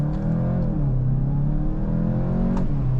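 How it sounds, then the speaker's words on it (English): A 2021 Volkswagen GTI revs and accelerates on the Autobahn, a steady, loud exhaust drone rising in pitch, heard from inside with the sunroof open. "with sunroof open, maybe we'll get a little bit more actual exhaust noise"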